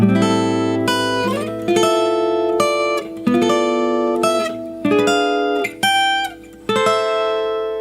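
An electric guitar plays a harmonized lead melody, a run of clear plucked double-stop notes that ring and decay one after another at a moderate pace, close and alone with no talking.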